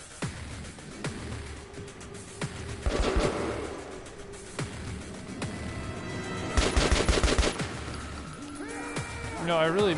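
An RPK machine gun in the video game Metro Last Light fires in several rapid bursts amid other gunfire and crashes, with someone talking over the action.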